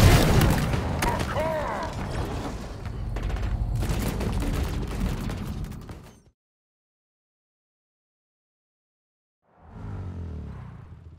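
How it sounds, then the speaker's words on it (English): Sustained gunfire from a brute enemy in the video game Halo Infinite, loud dense bursts and booms for about six seconds, then silence before a short return of noise. "Taking fire from that brute."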